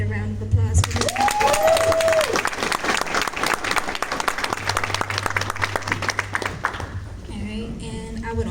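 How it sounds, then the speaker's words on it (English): A crowd applauds steadily for several seconds, dense clapping filling the room, with a brief voice and a whistle-like tone near the start before the clapping fades. "Can we get a round of applause for that?"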